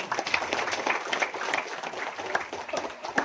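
Crowd at a political supporters' gathering of the Prabowo Mania 08 volunteers in Bojonegoro and Tuban applauding, a busy, moderately loud patter of many hands clapping with some voices underneath.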